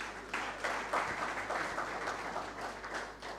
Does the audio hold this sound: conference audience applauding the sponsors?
yes